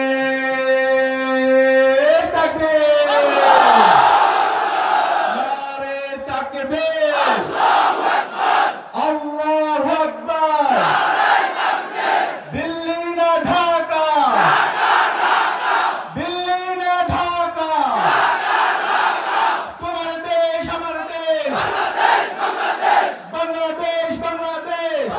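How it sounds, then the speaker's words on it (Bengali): A crowd chants slogans together in loud unison. Short shouted phrases repeat in a steady call-and-response rhythm for a long, sustained stretch, strong and close throughout. "আমরা একসাথে স্লোগান দেব।"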